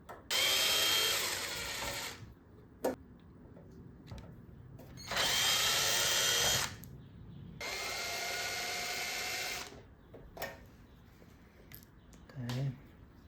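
A power screwdriver backs out the top cover screws of an NAD 3020 amplifier in several loud, high whirring bursts of about one to two seconds each, with brief clicks and handling noises between them.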